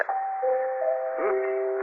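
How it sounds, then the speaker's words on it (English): A musical doorbell plays a short sequence of clear sustained chime tones, a radio drama sound effect, moderately loud and on its own with no talking. "chimes of Normandy. Very musical doorbell."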